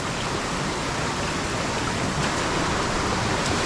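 Heavy rainwater rushes steadily past after a sudden downpour in the Konkan countryside, a continuous broadband roar of flowing water, close and loud throughout with no voices.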